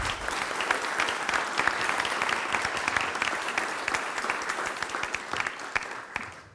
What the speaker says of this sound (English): Just want to give everybody a quick round of applause.